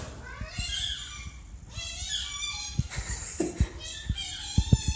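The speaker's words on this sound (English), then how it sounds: "This cat sounds exactly like a squeaky toy." Cat out in the snow making high, squeaky meows like a squeeze toy, several short cries in a row over faint background clicks and taps.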